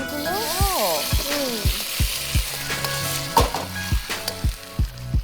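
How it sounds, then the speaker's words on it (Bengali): Green vegetables stir-fried in a wok with a little oil hiss loudly while a metal spatula strikes the wok in a quick steady rhythm of sharp clanks; a short melodic tone rises and falls early on. "青菜下锅"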